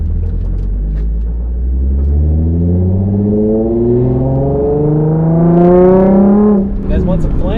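A modified Nissan 350Z Nismo on a mountain road, its engine loud and close, revving up steadily in repeated climbing pulls before a sharp throttle lift near the end, with a voice speaking over it.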